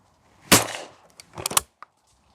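Gunshot at shooting practice, one loud sharp blast up close with a decaying tail, followed by a cluster of fainter clacks and a small click.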